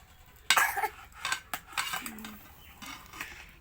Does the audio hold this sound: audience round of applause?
no